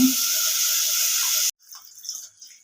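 Water pours steadily into a cooking pot holding raw jackfruit curry with salt and turmeric, a loud close rush for about a second and a half, then it stops, leaving faint clinks and settling sounds.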